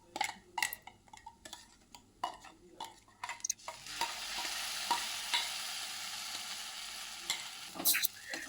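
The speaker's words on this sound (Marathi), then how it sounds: "टोमॅटोला छान भाजून घ्यायचं." Onion paste and tomato paste fry in a pan, first with a series of scraping stirs and taps, then a steady, close sizzle that swells in the second half, punctuated by a few more stirring clinks.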